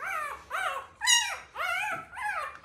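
A puppy whimpers while it is handled and held in awkward positions for early neurological stimulation, giving about five close, high, drawn-out whines in quick succession with short pauses between them.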